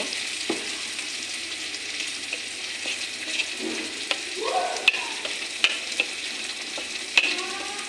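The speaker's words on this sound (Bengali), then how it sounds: "আমি মশলাটা এই পেঁয়াজটাও দিয়ে দেব একটু জল দিয়ে আমি ডু করে নেব" Spice paste and onion with a splash of water cook in a pan over low gas for chili fish, giving a soft, steady sizzle broken by occasional sharp clicks and scrapes of stirring.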